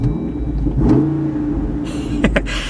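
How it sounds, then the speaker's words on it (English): A Jeep Wrangler Rubicon 392 V8 engine idles with a deep, throaty exhaust rumble, then gets a couple of quick revs that rise and fall sharply near the end. "It's got a nice beefy exhaust. We give it a couple revs."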